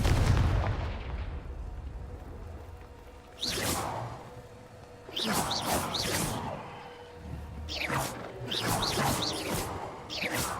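Confringo fire spells blast repeatedly in Hogwarts Legacy, each cast a sharp whooshing burst with a crackling explosive tail, several bursts in irregular succession over ten seconds with quieter gaps between.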